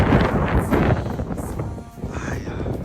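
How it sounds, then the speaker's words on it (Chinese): Strong cold wind gusting hard against a tent during a snowstorm, a blustery roar and buffeting microphone rumble rising and falling, close and loud, with no talk. "这风呼呼的带哨的"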